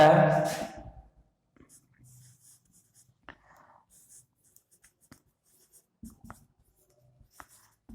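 Chalk or marker writing equations on a board during an engineering maths lecture on systems of linear equations, with short faint strokes and taps after a brief burst of speech at the start.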